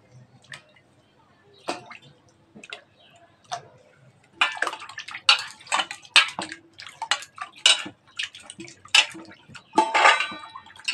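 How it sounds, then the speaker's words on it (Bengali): Hilsa fish pieces are washed by hand in a bowl of water, with splashing, sloshing and clinking against the vessel in irregular bursts that grow busier and louder in the second half. "প্রথমে মাছগুলোকে আমি জলে ধুয়ে নেবো"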